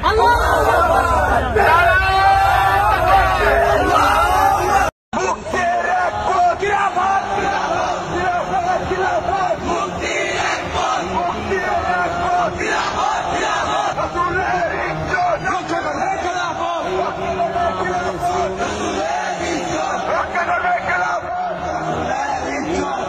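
A large crowd at a rally shouts Khilafa slogans in loud, massed unison, with dense babble and overlapping voices throughout and a brief cut near the start.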